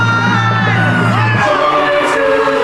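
A huge crowd roars and whoops at the Rockefeller Center Christmas tree lighting in New York City as the giant tree is switched on, a loud, dense wash of yelling and cheering that swells after a brief lull.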